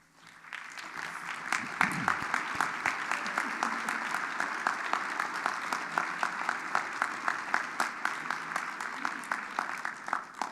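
Applause from a conference audience honoring directors and former NSF rotators, rising quickly and holding steady, with distinct regular claps standing out above the general clapping.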